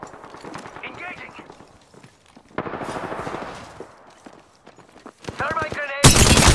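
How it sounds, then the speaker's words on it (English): Bursts of gunfire crackle in the battle royale shooter Apex Legends, with a loud burst of automatic fire at the end, while a character voice talks between the shots. "They're shooting at me?"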